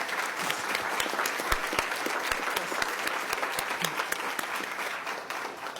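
A school board meeting audience keeps up sustained, full applause with a few sharper individual claps standing out, and the sound tapers slightly at the end.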